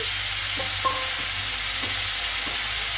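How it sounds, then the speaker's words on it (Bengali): Vegetables sizzle as they are added to cauliflower frying in a pan, with a steady loud crackling hiss and a few soft clinks of stirring, close by. "এই যে সবজি ছেড়ে দিলাম"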